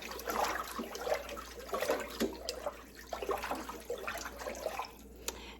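Collard greens swirled in a sink of water with apple cider vinegar, a steady close sloshing and splashing with irregular watery surges and no talk.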